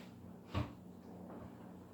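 A door shuts indoors with a single muffled thud, close and brief, over a steady low room hum.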